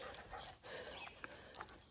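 Dogs out on a walk along a hot road make small whimpers, pants and yips, close and fairly quiet, with no talk over them.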